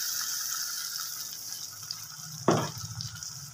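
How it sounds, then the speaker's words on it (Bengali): Watery tomato-onion paste is poured into a pan of chicken, a sudden close splash and gurgle over a steady background hiss, tapering off after a couple of seconds. "পেস্টটার মধ্যে জল দিয়ে একটু লিকুইড করে নিলাম, এর মধ্যে ঢেলে দেব"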